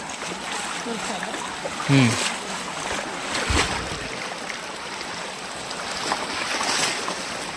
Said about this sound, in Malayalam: ഒഴുക്കുണ്ട് അത്യാവശ്യം.